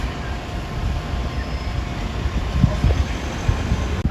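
A Stockholm metro train at a station, a steady low rumble and hum of rolling cars with faint squeals and clunks near the end, heard without any voices.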